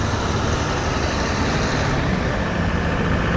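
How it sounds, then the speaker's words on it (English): A loud truck roars past on a road, a dense, steady rumble of engine and road noise that fills the whole clip and drowns out everything else. "Holy loud truck."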